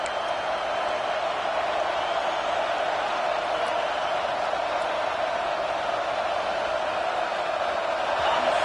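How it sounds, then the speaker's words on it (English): Football stadium crowd roars for the defense on third down, a constant, loud wall of noise that builds slightly over nine seconds, with no break and no clear single voices. "Decibels rising as the crowd gets behind this defense on third down"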